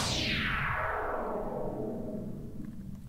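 Analog synth filter sweep edited on a computer, a loud, continuous noisy tone that sweeps steadily downward from bright to dark over a sustained low rumble, heard alone.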